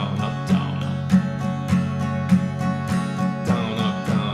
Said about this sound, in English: I'll play a very basic strumming pattern in a straight feel